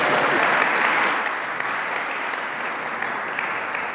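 An audience at a talk applauds steadily, a dense close clapping that starts strong and eases slightly while holding on throughout.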